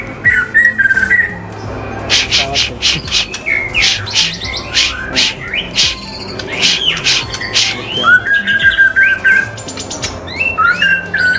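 White-rumped shama singing loudly and close, a run of rapid sharp whistles, chirps and squawks in bursts, with people talking faintly in the background.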